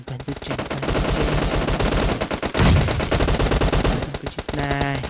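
Rapid automatic gunfire from the battle royale video game PUBG rattles through dense, continuous bursts with a heavier blast near the middle, loud and close throughout.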